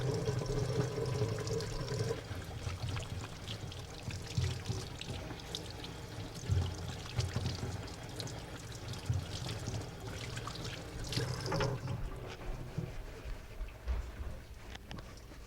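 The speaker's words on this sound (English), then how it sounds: "first I wash my hands." Water pours into a bowl for hand washing, a quiet continuous splashing trickle lasting the whole stretch, with faint room noise and no talk.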